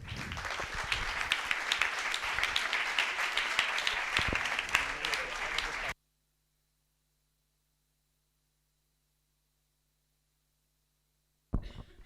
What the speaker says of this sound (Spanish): Y os pido un aplauso.